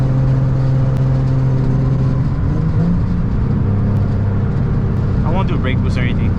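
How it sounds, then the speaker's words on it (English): A turbocharged 800 hp Nissan 350Z pulling hard in gear, a loud close engine drone rising steadily in pitch, with a brief high whistle near the end. "I'll probably do a little pull for you guys right now, a little third gear or something."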